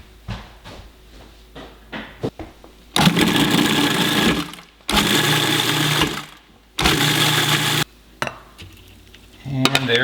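Blender or mixer whirring as ripe kiwis are blended into a slurry, three loud steady bursts of a few seconds each separated by short pauses, with clunks and handling noises between them.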